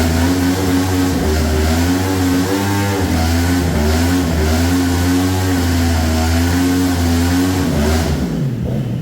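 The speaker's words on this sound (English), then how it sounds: "I thought maybe doing the burnout on there would help level them out" A golf cart powered by a street-bike engine doing a burnout: a loud, close engine held at high revs with a wavering, warbling pitch throughout, cutting off abruptly at the end.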